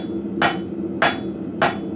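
A blacksmith's hammer strikes hot steel on an anvil while drawing out a taper, three sharp ringing blows spaced evenly about every half second over a low background hum.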